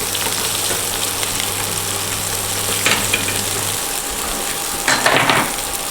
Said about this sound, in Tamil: இப்போ கட் பண்ணி வச்சு வெங்காயத்தை போடலாம்.